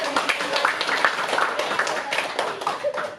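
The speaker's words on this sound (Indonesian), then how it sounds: "Ayo tepuk tangan semua." A whole class claps together in a classroom, steady dense clapping that fills the room throughout, with a few voices mixed in.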